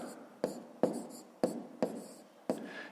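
Pen writing numbers on paper during a fifth-grade maths subtraction exercise, heard as five short, distinct scratching strokes spaced roughly half a second apart, close and clear with no talk.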